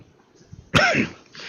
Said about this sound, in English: Just have to excuse my damn cough.